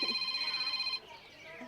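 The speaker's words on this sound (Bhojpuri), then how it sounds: "उठा ला। अरे समधन जी के फोन बा।" A telephone rings with a steady electronic ringtone that stops partway, followed by quieter background sound.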